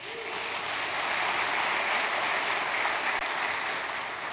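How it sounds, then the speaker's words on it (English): A church audience claps in a sustained round of applause, a dense, even patter of many hands lasting several seconds without a break. "So give them a round of applause."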